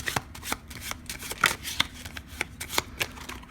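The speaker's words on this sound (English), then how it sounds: "then we'll give it a little bit more shuffles" Close, steady card shuffling with sharp flicks and riffling snaps coming one after another, clear and unaccompanied by talk.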